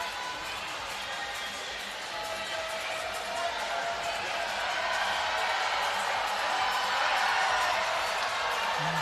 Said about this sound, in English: The fans are cheering for him. Their teammates are making a lot of noise.